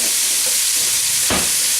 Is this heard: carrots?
yes